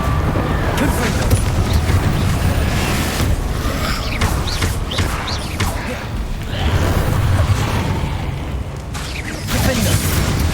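Repeated fiery spell blasts from Hogwarts Legacy combat, a fast run of bursts, whooshes and booming impacts stacked over a loud, dense game soundscape, with a voice speaking amid the chaos.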